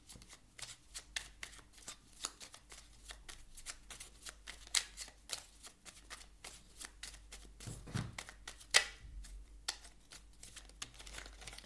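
Small deck of oracle cards shuffled by hand, a quick, soft, steady riffling patter of card edges up close, with no talking.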